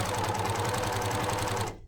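An overlocker sewing machine stitches fabric with a steady, fast mechanical whir and hum. It runs loud and close without a break, then cuts off just before the end.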